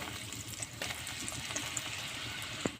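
Finger pakoras dropped into hot oil and frying, a steady close crackling sizzle with a brief bubbling burst near the end, no one speaking.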